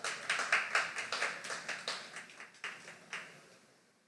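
A small audience at a slam poetry event claps for a poet. The sharp claps come at a loose, steady pace, fairly faint, thinning out and fading toward the end.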